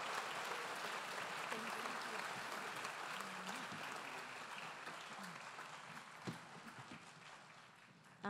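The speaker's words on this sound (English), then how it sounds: "Give them a round of applause" An audience applauds award honorees at a Hispanic chamber of commerce gala, with steady, dense clapping and a faint murmur of voices underneath that thins slightly near the end.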